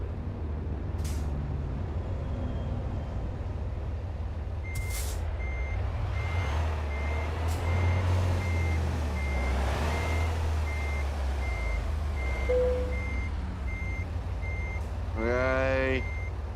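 Reversing alarm of a truck in American Truck Simulator, regular electronic beeps repeating steadily over engine rumble, with air brake hisses and other truck noises around it.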